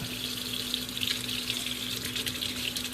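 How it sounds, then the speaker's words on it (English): Hot water pours steadily from a tap into a container to mix fabric dye for a DIY shirt. The sound is a continuous close hiss and splash with no talking. "I usually would recommend putting really hot water in here just to get it mixed up."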